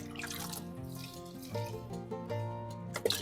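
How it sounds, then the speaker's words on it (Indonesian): Water poured over bonsai potting soil mixed with Malang sand, a steady pour that runs for several seconds with a few brief splashes near the end, close by, with no talking. "saya siram dengan air"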